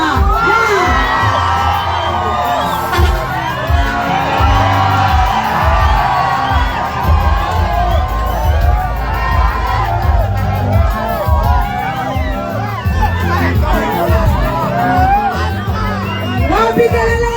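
Concert crowd at a Mugithi show, cheering and shouting loudly and continuously over dense music, with whoops and a hubbub of voices throughout.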